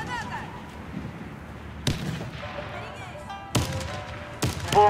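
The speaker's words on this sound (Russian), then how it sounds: "Граната!" A grenade goes off in a team-based multiplayer shooter during clan play, with sharp gunfire-like blasts and thuds standing out from busy background game noise and faint chatter.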